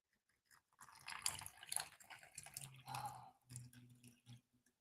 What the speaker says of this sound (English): just take your little cup, give it a pour.